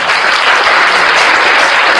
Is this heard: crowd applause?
yes